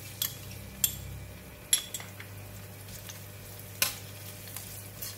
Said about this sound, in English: Oil is hot. I'm going to put in the garlic.